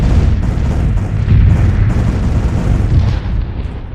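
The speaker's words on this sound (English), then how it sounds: "Oh, they got gravity weapons." Gravity weapons fire during a space battle in Distant Worlds, a loud continuous rumble of deep booming blasts and explosions with no talking.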